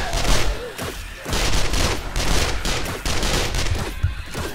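A submachine gun with an extended clip mod fires in the survival video game 7 Days to Die, loud rapid bursts of automatic fire repeating across the span with brief gaps between volleys.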